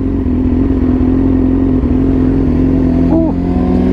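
Yamaha R6 sport bike fitted with a very loud full exhaust, idling and revving with a deep, steady engine drone that stays close and constant throughout.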